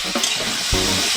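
Potatoes, onions and carrots frying with turmeric in a pan get a brief stir: a steady close sizzle with a scraping stroke partway through, no voices.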